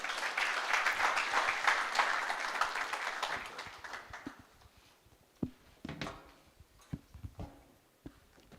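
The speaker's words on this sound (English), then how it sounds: "Please welcome him with a round of applause." An audience at an innovation space launch applauds to welcome a minister, with a moderately loud burst of clapping that thins after about three seconds into scattered claps, faint knocks and shuffling.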